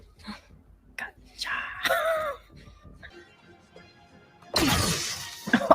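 A sudden burst of shattering glass near the end, loud and close, following quieter movement and muffled talk.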